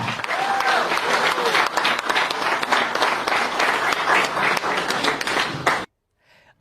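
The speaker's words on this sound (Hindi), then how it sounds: "आप सभी की जोरदार तालियों के साथ" An event audience claps loudly and steadily as a guest is called to the stage, and the full applause cuts off abruptly into near silence.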